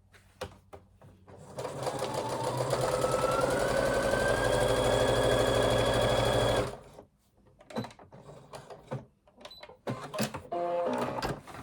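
A sewing machine stitching a zipped project bag runs in one steady, loud, whirring stretch of several seconds, then stops, followed by scattered clicks and handling noises.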